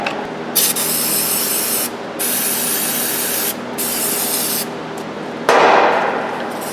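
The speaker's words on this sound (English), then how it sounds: "excavate these out and clean them up and put some penetrant on there" Penetrating oil sprays in several long hissing bursts onto the ball joints of a Dodge Dakota/Durango as they are cleaned, each blast loud and close with brief pauses between, the last one harsher.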